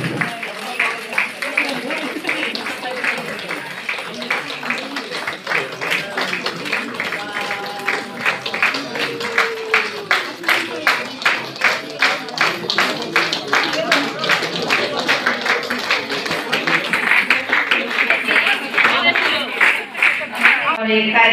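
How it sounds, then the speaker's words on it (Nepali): A seated audience at a Tamu women's committee International Women's Day gathering claps steadily and rhythmically for over twenty seconds, loud and sustained, with crowd murmur underneath. "कृपया ताली अलि जोरदार तालीले सम्मान गरिदिनु हुन पनि"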